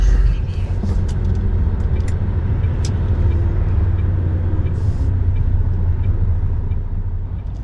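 A car pulling out and driving off, heard as a loud, steady, close engine rumble with road noise that fills the whole stretch and eases slightly at the end.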